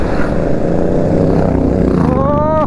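A GT motorcycle in a passing biker group on a hilly road, its engine droning loudly with dense crackling exhaust pops, then a rising rev near the end.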